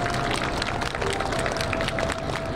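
A crowd at an air base open house applauds a guard dog training demonstration with a steady, dense burst of outdoor clapping that runs throughout.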